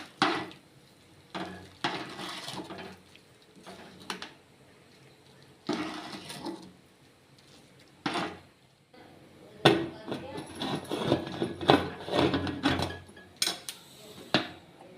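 Pressure cooker of rice and lentils seasoned with asafoetida being stirred and closed: several metallic clanks and scrapes as the lid is fitted, spread out in bursts with quiet pauses between them, and voices talking at times.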